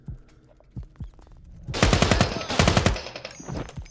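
Gunfire in the tactical shooter Ground Branch: a few sharp, spaced single shots, then a loud close burst of rapid automatic fire lasting about a second, followed by more scattered shots.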